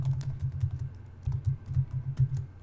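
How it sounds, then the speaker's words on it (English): Typing on a computer keyboard, a close, quiet run of soft key clicks in uneven bursts with a short pause midway, no voices. "I'm going to type breaking news."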